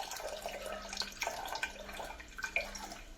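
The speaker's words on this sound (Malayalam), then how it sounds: "ഇനി ഇതിലേക്ക് പുളിവെള്ളം ഒഴിക്കാം." Tamarind water poured into a pot of well-cooked lentils for sambar gives a close, steady liquid splashing and trickling with small drips, with no talk over it.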